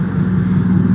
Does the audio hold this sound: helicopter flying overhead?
yes